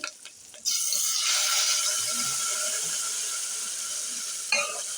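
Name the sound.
tempering poured into tomato drumstick rasam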